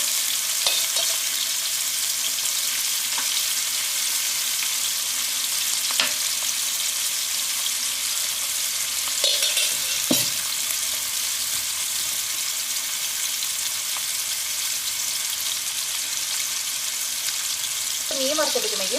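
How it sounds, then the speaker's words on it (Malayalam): Fish sizzles steadily in hot oil, fried for a fish pickle, with a dense, continuous crackle and a few soft stirring clicks, heard close and without talk. "മീൻ നന്നായിട്ട് മുരിയണം"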